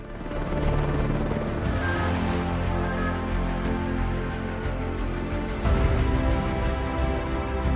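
Helicopter in Asobo Studio's flight simulator game, a steady loud rotor and turbine drone with a whooshing wash, holding for several seconds and swelling slightly near the end.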